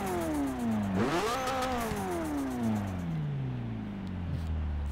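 A car engine in the racing game Forza Motorsport 6 revs hard, dips, surges again and then winds down in a long falling pitch, loud and close with no talk over it.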